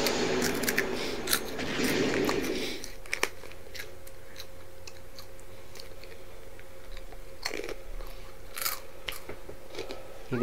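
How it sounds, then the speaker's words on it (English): Someone eats something crunchy nearby, with scattered crisp bites and chewing crunches over a low steady background hum and occasional sharp clicks. "You've been crunching the whole time?"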